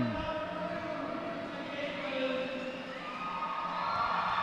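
Roller derby crowd in the Bunker at Downsview Park cheering as the Toronto CN Power home team enters the track for its season opener, a steady wash of distant cheers and shouts.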